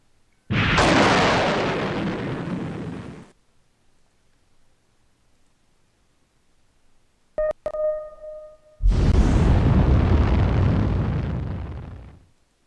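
Missiles fire and explode in the naval warfare game Command: Modern Operations. Two long, loud roaring blasts of noise are heard, with a short electronic alert tone between them and no voices.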